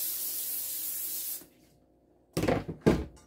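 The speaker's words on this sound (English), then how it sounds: "by spraying it down with non-stick cooking spray" A steady aerosol spray hisses for about a second and a half, then stops; two short clattering knocks follow after a pause.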